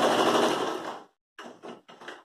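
A sewing machine stitches a denim rug, a rapid mechanical whirring burst for about a second, then a pause and two short stitching bursts, close and alone.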